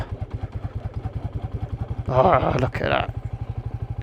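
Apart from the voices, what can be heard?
Royal Enfield Meteor 350 motorcycle riding off-road in second gear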